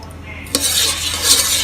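Sticky rice mixed with coconut oil is stirred in a pot, with a sharp scrape of the utensil followed by a continuous wet, grainy churning close by, with no talk.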